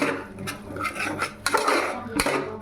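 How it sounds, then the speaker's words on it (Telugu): A spoon stirring spice powders in a cooking pot for semiya biryani, giving a few close metallic clinks and scrapes against the pot. "ఇప్పుడు ఆ పొళ్ళన్నీ బాగా కలపెట్టాలండి. ఓకే, బాగా కలపాలి పొళ్ళన్నీ."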